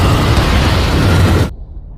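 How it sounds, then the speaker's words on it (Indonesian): A loud, rumbling explosion roars for about a second and a half, then cuts off abruptly into near silence. "Keteledorannya itu membuat ruangan meledak."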